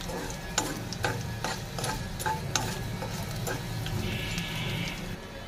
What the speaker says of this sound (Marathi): साहित्य सगळं घातल्यानंतर आपल्याला छान असं परतून घ्यायचं आहे